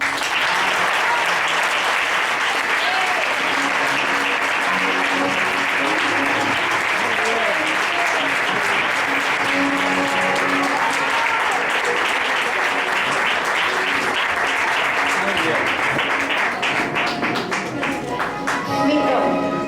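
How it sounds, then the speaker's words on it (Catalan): A crowd at a Falla children's president proclamation claps loudly and steadily for about twenty seconds, a dense, continuous applause that thins slightly toward the end. "Un fort aplaudiment per a ell."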